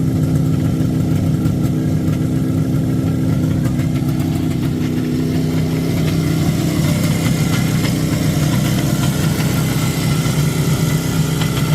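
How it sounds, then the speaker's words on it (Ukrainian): IZh Jupiter 5 motorcycle engine idling with an even exhaust, a steady, close, loud rumble that holds its rhythm throughout with no talking. "Вихлоп равномірний."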